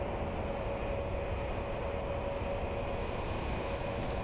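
An airliner, a China Airlines jet, taking off at Frankfurt Main Airport: a steady, broad engine roar with a faint whine, heard from a distance at constant moderate loudness.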